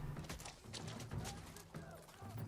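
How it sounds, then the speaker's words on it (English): A horse gallops in Ghost of Tsushima, the video game, on Iki Island, with steady hoofbeats running close and fairly loud beneath game noise and a faint voice. "I just go ahead and just absolutely run these guys over with my trusty horse."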